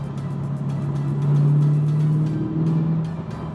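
A C8 Corvette Z51 with magnetic ride, driving in sport mode, gives a steady low engine drone inside the cabin that swells briefly midway and then settles, with faint road noise and no talk.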